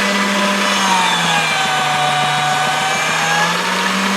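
Motor-driven pasta machine rolling polymer clay on its widest setting, a loud constant motor hum and whine with a quick repeating rattle of the rollers, close up and unbroken.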